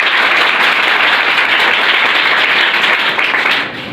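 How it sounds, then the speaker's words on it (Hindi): Loud, dense applause from a crowd of students at a middle school, steady broadband clapping that fills the whole stretch and eases slightly at the very end. "इनके लिए जोरदार ताली बजाइए।"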